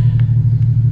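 Low, loud engine rumble from a Nissan 370Z, steady with slight pulsing, likely a blip of the throttle heard close up with no talk.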